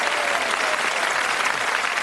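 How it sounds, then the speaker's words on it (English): A studio audience on a 1986 British game show breaks into sustained, dense applause, loud and steady throughout, with no voices over it. "Give him a nice round of applause."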